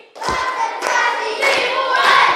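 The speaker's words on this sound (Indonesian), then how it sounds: "Konsentrasi, tepuk konsentrasi." A classroom of pupils does a concentration clap, a short run of group hand claps with voices chanting along, close and steady.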